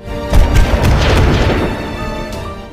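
Heavy booming blasts and rumbling bursts of gunfire from a Soviet and German tank battle in a war film, loud and close, with several sharp hits early on and a continuous roar behind them.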